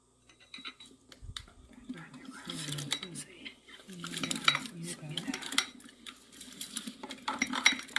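Spoon scraping and clinking against a container as thick liquid is stirred, continuous and close, with faint murmuring in the background.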